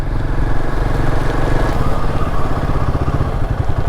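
A motorcycle climbs a mountain ghat road at night, its engine droning loud and steady with a rough, continuous rumble throughout.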